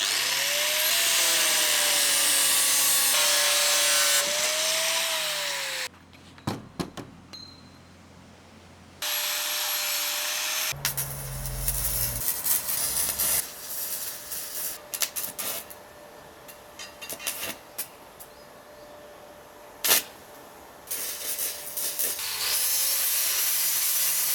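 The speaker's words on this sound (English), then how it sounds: "I got a new angle grinder. This one's a DeWalt." A new DeWalt angle grinder runs and cuts in bursts, a loud high whine rising and falling in pitch, stopping and restarting, with gaps of quieter rubbing and clanking between cuts.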